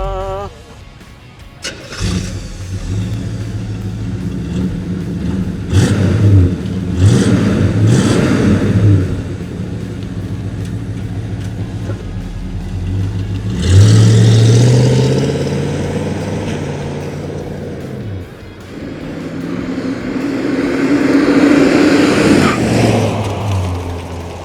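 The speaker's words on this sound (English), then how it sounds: "seems like a good spot for a good old-fashioned startup" A 1972 Chevy Monte Carlo cranks and fires up loudly close by, then its engine revs repeatedly in strong surging roars with rising and falling pitch, settling between blips into a rumbling idle.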